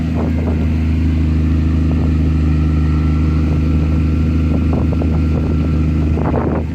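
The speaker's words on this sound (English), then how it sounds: "Listen to the exhaust." A Lexus GS300 engine runs steadily at idle, its exhaust giving a deep, even rumble close by with no voices.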